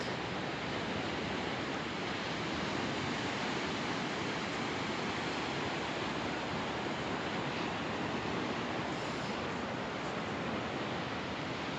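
Steady rushing surf of Danish sea waves washing onto a soft sandy beach at sunset, a constant broad hiss without pauses or voices.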